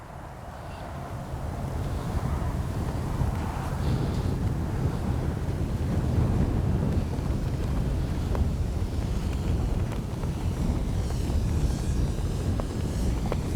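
Steady wind buffets the microphone outdoors at a flying field where an FMS P-47 Thunderbolt model warplane is being flown, a loud continuous low rumble and rush that fills the whole stretch without speech.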